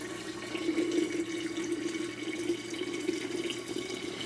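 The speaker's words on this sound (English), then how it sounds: "I'm going to let it splash a bit." Berry cider must pours and splashes into a large container, giving a continuous rushing, bubbling stream of liquid, close and fairly quiet, with no voices.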